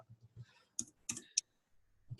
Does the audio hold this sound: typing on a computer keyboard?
yes